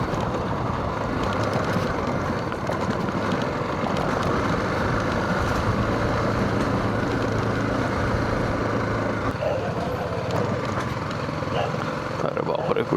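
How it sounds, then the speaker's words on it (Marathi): A BMW G310GS motorcycle rides along a rural shortcut road past sown fields, its steady engine and road rumble continuous and fairly loud throughout, with wind noise layered over it. "बाईक इथून इझिली जाऊ शकते"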